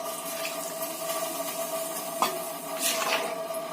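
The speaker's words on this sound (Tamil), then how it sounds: "பாருங்க நான் தண்ணி சேர்க்குறேன்." Water is poured into a white kurma curry cooking in a pot, a steady close splashing stream with a brief clink partway through, no talking.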